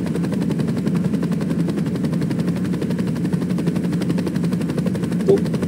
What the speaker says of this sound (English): See, chopper is way easier than a car